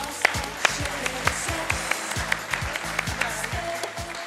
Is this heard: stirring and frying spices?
no